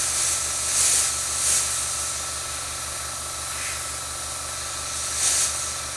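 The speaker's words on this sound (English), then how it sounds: "Though low PSI thin paint is working well, and I'm just going to keep airbrushing." A 0.5mm airbrush sprays thin paint at low pressure, producing a soft steady hiss with gentle swells as the trigger is worked, close by and without voices.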